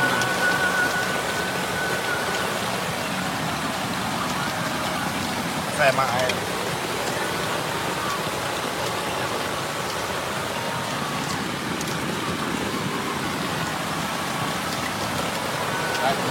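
Heavy rain pours steadily at a flooded riverside campsite in a constant dense hiss, with a person speaking briefly over the downpour.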